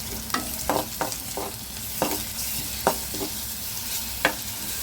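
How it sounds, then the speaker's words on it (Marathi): Chili and ginger-garlic paste sizzle with browned onion in a hot pan, a steady frying hiss broken by a series of sharp scraping knocks as a spoon stirs the mixture. "आता आपण याच्यात मिरची आणि आलं लसूण पेस्ट टाकूया. हे चांगलं मिक्स करून घ्यायचं आहे."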